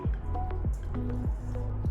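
Vermicelli stuffing being stirred together with fried onions, giving wet, squishy mixing strokes in a steady repeating rhythm, close up and fairly loud with no talk.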